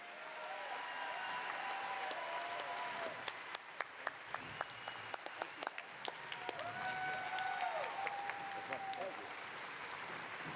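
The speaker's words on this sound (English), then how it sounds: "I would just like to ask for a round of applause for 12 seasons of The Big Bang Theory" A panel audience at a Big Bang Theory writers' room event gives sustained applause for the show's twelve seasons, a steady wash of clapping with some sharper individual claps rising near the end, while voices talk over it.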